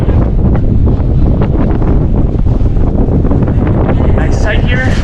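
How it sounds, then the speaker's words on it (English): Strong wind buffets the microphone outdoors in the old town of Mykonos, Greece. A loud, continuous roar and rumble fills the sound with no break. "that wind is going to be a problem"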